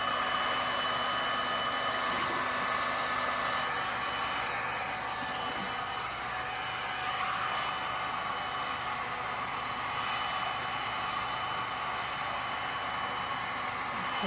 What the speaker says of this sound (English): the heat gun.